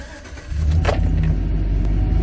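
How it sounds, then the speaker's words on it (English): A pickup truck engine cranks and starts after an oil change, a brief whir of the starter followed by a low, steady idle rumble close by. "Let's go ahead and start the truck, and we'll check for leaks."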